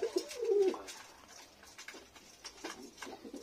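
Domestic Lakka pigeons coo softly nearby in one brief, warbling burst at the start. Quieter shuffling and faint tapping follow, with no speech.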